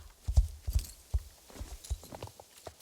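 A pony's hooves clip-clop in a video game, an irregular series of light thudding steps heard close up over several seconds with no talking.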